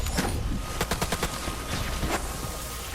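Rapid bursts of gunfire in the Borderlands 3 video game, clusters of quick sharp shots in two volleys over a dense, busy game soundscape.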